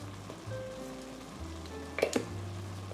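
Ginger sizzles as it fries with ground beef in a pan over medium heat, a steady close hiss with brief louder crackles and stirring clatter near the middle.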